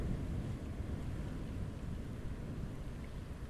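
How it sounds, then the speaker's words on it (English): Ocean waves washing toward a rocky tidal pool, heard as a soft, constant low rumble of distant surf with a faint airy hiss, even and unbroken with no voices. "The sound of the waves grows louder."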